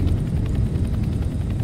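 Helicopter in the Roblox game Blackhawk Rescue Mission 5, a loud continuous rotor and engine roar that fills the moment steadily with no breaks and no talk.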